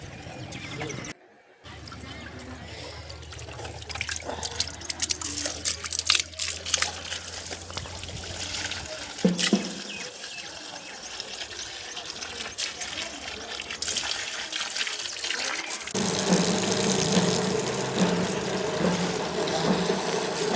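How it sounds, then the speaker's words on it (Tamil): Water poured onto home garden plants, a steady trickling and splashing stream running for most of the clip with brief pauses and occasional shifts in flow. "அதுக்கப்புறம் செடிக்கு தண்ணி விட ஆரம்பிச்சிட்டேன் நான்."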